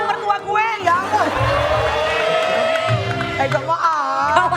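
A studio audience claps and cheers for a guest's mother-in-law on an Indonesian talk show, with lively crowd noise and whoops mixed under a host's excited talking throughout.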